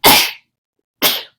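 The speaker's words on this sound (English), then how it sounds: "More sneezes" Two sharp, loud sneezes, close to the microphone, about a second apart with silence between them.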